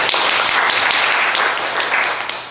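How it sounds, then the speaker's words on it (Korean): Audience clapping after a presentation at an expert forum on aging, a loud, dense burst of applause from a seated crowd that stays strong before tapering slightly at the end. "박수 한번 보내주시죠."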